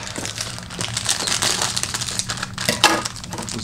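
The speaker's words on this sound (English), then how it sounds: "Dump it in the bowl." Dry scone and shortcake mix pours from a package into a bowl, a steady close crinkling rustle with soft gritty crunches throughout.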